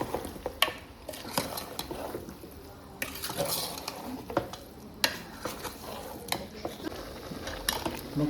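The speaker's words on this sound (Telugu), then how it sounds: "అన్నీ వేసాక కలిపెట్టుకుందాం." Farm chicken frying with chili powder and chicken masala while a spoon stirs and scrapes the pan, with a soft sizzle under irregular metallic clinks and scrapes, close and fairly quiet.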